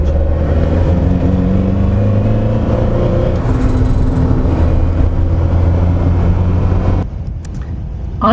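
A 1976 Lotus Elite driving on the road, its engine giving a loud, steady drone with road noise throughout, cutting off abruptly near the end.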